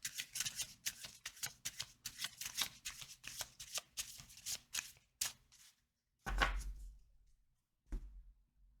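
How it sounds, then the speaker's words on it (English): A tarot card deck being riffled and shuffled in rapid crisp bursts, close and alone, then cut with a couple of heavier thumps near the end. "let's shuffle and cut."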